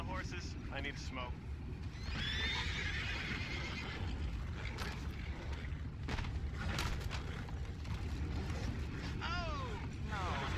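Horses neigh and whinny in the Red Dead Redemption 2 video game, with rising and falling calls repeating over a loud, dense game soundscape and busy background voices.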